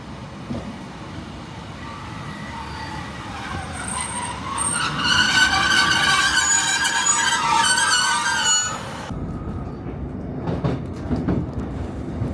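Northern passenger train bound for Manchester Piccadilly at a station on the Mid Cheshire Line: a low rumble builds to loud screeching brakes and metallic squeal, then cuts to quieter carriage rumble with faint clicks.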